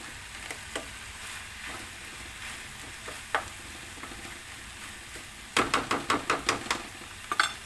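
Beef simmers uncovered in a pan with a low, soft sizzle and bubbling, broken by sporadic clicks and a quick run of sharp spoon or spatula taps against the pan near the end.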